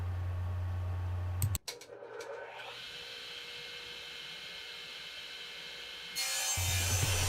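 A table saw rips a 2x6 board into uprights. The motor whines, then the blade bites into the wood with a sharp jolt, and a steady cutting drone follows before the saw runs free again at the end.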